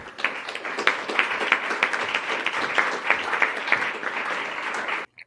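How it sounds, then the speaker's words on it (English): Steady applause from a small audience of about 15 people at an event introducing Secretary Robert F. Kennedy Jr., scattered claps blending into a continuous patter that stops abruptly. "All 15 people are clapping."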